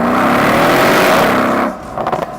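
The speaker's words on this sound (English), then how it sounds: "Very few manufacturers make V8 engines that sound as good as Mercedes-AMG." A 2018 Mercedes-AMG SL 63 convertible's V8 roars loudly at high revs, holding a rising, rich engine note before dropping off abruptly into a few quick burbling crackles.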